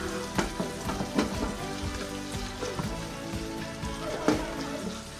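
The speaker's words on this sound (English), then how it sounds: "Stir that in there" Ragu sauce sizzles and bubbles in a pan while a spoon stirs it, with a soft crackling hiss and intermittent scraping knocks.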